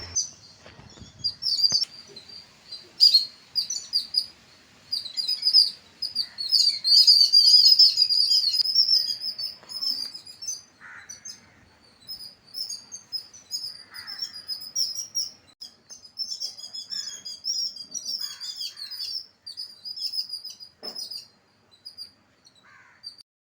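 Several birds call from high in a tree, a steady stream of bright chirps and tweets with occasional harsher caw-like notes, moderately near and continuing throughout without any talk.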